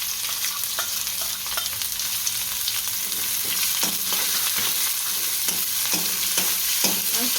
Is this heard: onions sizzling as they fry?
yes